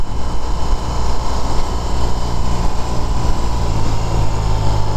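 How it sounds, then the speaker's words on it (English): A 2021 BMW R18 First Edition motorcycle engine rumbling at low RPM, a steady deep, throaty exhaust drone with constant low-end energy, close and continuous without speech. "when low RPM, there you can hear that engine now, or that exhaust now"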